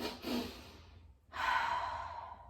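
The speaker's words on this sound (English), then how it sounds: "just the 2 breaths in through the nose and 1 long breath out through the mouth" Breathing exercise with two quick breaths in through the nose followed by one long, audible exhale through the mouth, close and breathy, with a short pause between the inhales and the out-breath.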